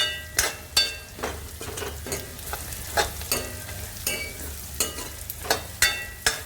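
Boondi pakoris sizzle and crackle in hot oil in a pan while a utensil stirs them, giving a steady frying hiss broken by repeated sharp scraping clacks.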